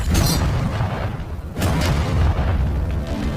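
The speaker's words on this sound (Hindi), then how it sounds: "ये 5 टैंक्स पैसों पर निशाना लगाकर 20 राउंड फायर करने वाले हैं।" A tank fires its first round, producing a loud booming blast with a rumbling low-end tail, followed by a second heavy boom and lingering rumble.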